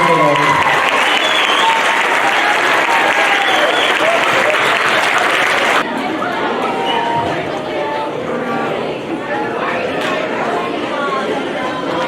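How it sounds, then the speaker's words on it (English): Audience applause at a middle school spring band concert, loud and dense clapping filling the hall for about six seconds, then thinning to softer scattered claps and crowd chatter. "Another round of applause for them."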